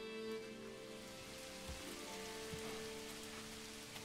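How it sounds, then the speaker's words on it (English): Steady rain falls on a medieval village in the game Manor Lords, a faint continuous patter on roofs and ground with a low background hum and no voices. "I do like the rain and the fact it makes puddles."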